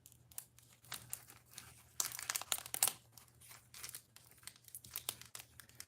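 A baseball card pack wrapper is torn and peeled open up close, with bursts of crisp crinkling and tearing foil over several seconds.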